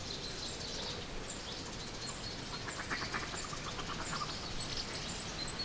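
Flocks of waterbirds call at large, naturally formed fish ponds between Valtice and Lednice, a dense, steady chorus of overlapping high calls and quacks carrying over a constant outdoor hiss, with no break.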